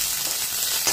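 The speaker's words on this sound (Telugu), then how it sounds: "తర్వాత దీనికి పోపుకి ఆవాలు, ఎండుమిరపకాయ," Mustard seeds and dried red chillies sizzle in hot tempering oil for a mango and sesame chutney, a steady close crackling hiss with no voices.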